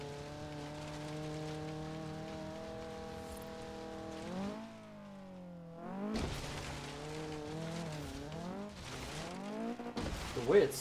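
Engine of a car in Forza Horizon 3 driving and launching off a big jump, a steady harmonic drone that drops and cuts out midway, then revs back up in rising and falling sweeps.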